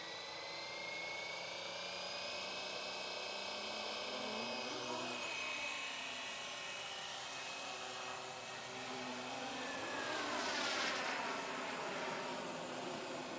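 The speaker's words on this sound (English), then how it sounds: "Jump, tail should start, and then the rotor should start." An RC helicopter's tail and main rotors spin up, a loud whining buzz whose pitch sweeps and climbs as the motor winds up, nearby and continuous, with faint voices underneath.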